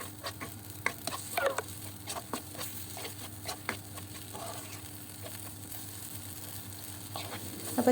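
Yogurt and masala sauté in a pan for chicken curry, a quiet, steady sizzle broken by soft stirring taps and scrapes, with no talking.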